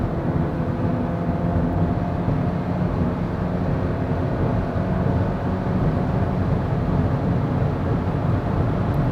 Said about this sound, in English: So let me just let you hear the engine